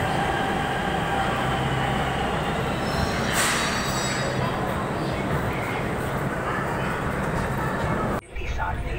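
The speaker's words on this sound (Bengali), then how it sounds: "তো এরপরেই আমাদের মেট্রোটা আসবে।" A metro train pulls into a busy station in Delhi with a loud, sustained rumble and rail noise that swells, then a brief screech, ending in an abrupt drop near the end. Voices murmur faintly underneath.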